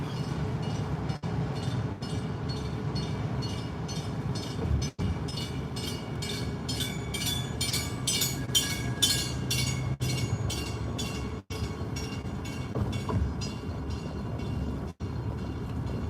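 A train runs through downtown Chicago at night, a continuous rumbling roll with rhythmic wheel clatter and repeated metallic clicks building in the middle, close and steady throughout.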